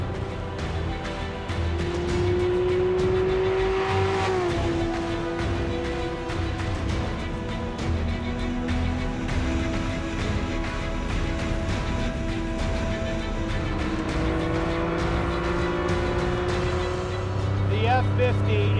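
A Ferrari F50 engine drones steadily from inside the car while driving, the pitch rising and falling with throttle, loud and continuous, with someone talking over it.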